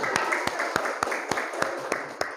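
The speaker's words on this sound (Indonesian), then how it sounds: "Beri tepuk tangan untuk kelompok 1" A classroom group claps for the first student group, a slow, steady run of sharp, evenly spaced hand claps, about three per second, ringing fairly close in the room.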